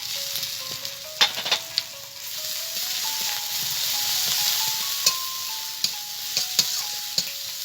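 Garlic paste crackles in a pan of frying onions, an even loud sizzle with scattered metallic clicks from stirring, heard up close without talking.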